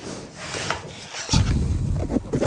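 A wooden backstop is clamped down on a Shopsmith SS104 overarm router, giving a close woody rubbing and scraping with a heavier burst of handling noise midway, no talk.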